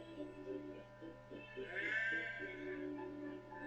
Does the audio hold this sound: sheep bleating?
yes